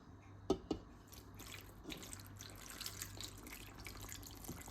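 Water is poured into a pot of tolma, grape-leaf dolma topped with butter, lemon and a plate. Two sharp clinks come first, then a quiet, steady trickle of water up close.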